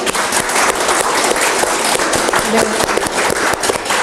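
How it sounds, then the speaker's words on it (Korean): An audience at a book concert claps together to celebrate a newly published biography, dense sustained applause filling the room at steady loudness throughout. "한번 큰 박수로 축하를 함께 할까요?"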